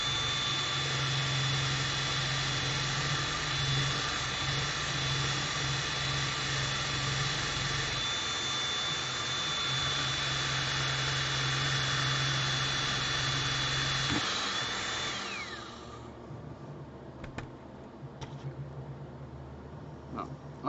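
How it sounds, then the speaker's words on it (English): A power drill bores through plywood with a loud, sustained motor whine that holds steady for about fifteen seconds, then winds down and stops, leaving faint scattered clicks and handling noise. "Why is it so dang hard to drill through this wood?"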